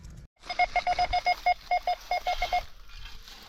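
Around a dozen short electronic beeps in a quick, slightly uneven rhythm from a metal detector picking up a foil signal, close and clear over faint background noise.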